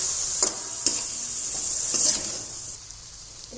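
Chili peppers fry with yogurt in a pan over medium heat, giving a constant bright sizzle broken by a few scraping stir strokes. The sizzle fades slightly toward the end, close up and with no talking.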